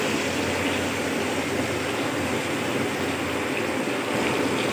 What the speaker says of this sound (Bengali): একটু মশলা ধোয়া জলও দিয়ে দিলাম